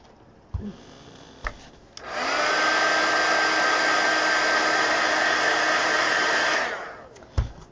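A hair dryer blows over acrylic paint on a mixed media collage card, switching on with a steady loud whine that runs for several seconds before cutting off, with a few light knocks on either side.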